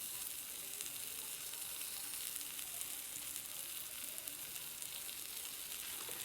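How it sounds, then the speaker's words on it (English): Provolone cheese sizzles and crackles in a hot cast iron skillet, a steady bright hiss that holds evenly at low volume without any talking. "It's sizzling already."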